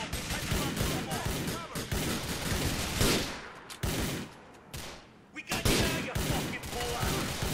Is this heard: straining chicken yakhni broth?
no